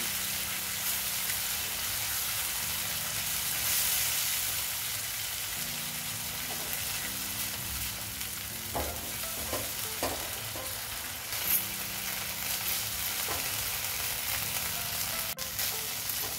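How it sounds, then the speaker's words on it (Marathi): Spiced masala paste for a restaurant-style paneer and peas curry being sautéed and stirred in a pan, with a steady close sizzle throughout and scattered scraping clicks from the spoon. "मसाला चांगला परतून घेऊया।"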